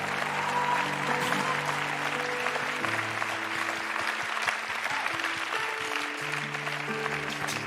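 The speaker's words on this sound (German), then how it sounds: "Lasst uns mal den Leuten mal einen Applaus geben, weil ihr seid wirklich Heroes." A Christmas show audience at ICF Zürich applauds the technicians with sustained, full clapping from a large crowd, while bass-heavy music plays underneath.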